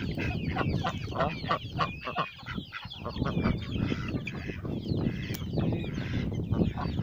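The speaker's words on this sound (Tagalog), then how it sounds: "Mayroon mga manok dito." Chickens cluck and call continuously on a diversified farm, with a rooster's voice mixed in, a dense, moderately loud flock of fowl close by with no one talking.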